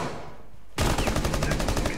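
Rapid automatic gunfire in the tactical shooter Rainbow Six Siege bursts in after a quiet lull, a loud, dense rattle of close shots continuing steadily to the end.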